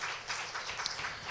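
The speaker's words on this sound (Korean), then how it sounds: "우리 박수로 한번 격려하시죠." A church congregation at a Sunday afternoon service applauding briefly, a faint, soft patter of scattered clapping heard from a distance.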